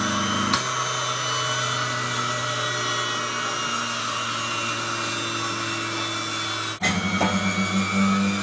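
An electric cream separator motor starts up and runs smoothly with a steady, even hum and whir. A short knock near the end briefly shifts the tone.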